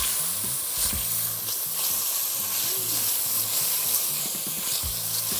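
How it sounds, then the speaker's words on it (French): Chicken pieces sizzle and spatter steadily as they brown in a hot pot, a continuous crackling fry with occasional soft scraping clatters, close up and without voices. "Donc là, on fait bien colorer les bouts de poulet."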